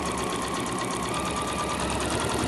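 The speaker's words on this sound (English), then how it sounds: "just stitch all those layers together just to hold it together" A sewing machine stitches through layers of a machine cover with a continuous, even motor hum and rapid needle chatter, close and steady throughout.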